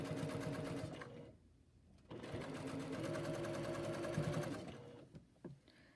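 A sewing machine stitches fabric without pins around a neckline in two runs with a short pause between, then winds down, ending in a few soft handling clicks.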